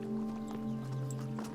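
Horse hooves clip-clopping at a steady, moderate pace, fairly close, over a low sustained drone and faint background noise.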